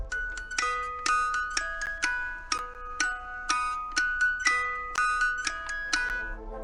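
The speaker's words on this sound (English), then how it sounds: "The music emanating from this box is the children's nursery rhyme My Grandfather's Clock, which sounds like this." Tinkling music-box melody of the nursery tune My Grandfather's Clock from Five Nights at Freddy's 2, plucked notes chiming in a steady rhythm, soft and alone.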